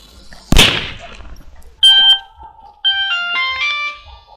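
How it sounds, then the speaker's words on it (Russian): A lit piece of sodium burning in air sets off a sharp, loud burst, then brief sizzling pops, followed by ringing tonal crackles and fizzing flares in two later spurts. "Повторим опыт, только теперь подожжем кусочек натрия."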